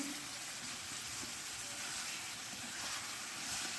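Mutton curry cooks in a pot on a clay stove over a sal-wood fire, giving off a dense, constant sizzling hiss of oil and steam, close and even throughout.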